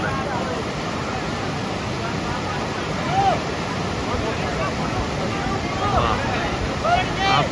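Waves of the Sarayu river at Naya Ghat in Ayodhya, where people bathe, wash in a continuous rushing, splashing roar, with faint distant voices and wind buffeting mixed in.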